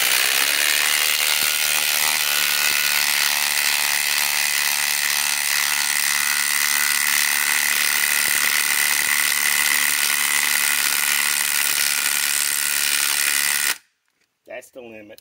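Milwaukee M18 Fuel Gen 4 2953-20 impact driver on a 6 Ah Forge battery, driving a 10-inch lag screw into a pre-drilled hole, hammers continuously and loudly for about fourteen seconds, then cuts out abruptly, leaving near silence and a brief knock.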